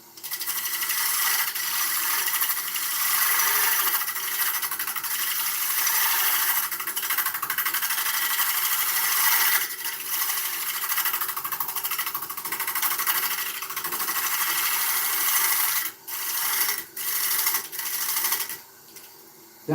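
Steady close rasping and chattering as a gouge cuts a spinning ash fruit bowl on a wood lathe, continuous for most of the stretch, then breaking into short separate cuts near the end, with no talking.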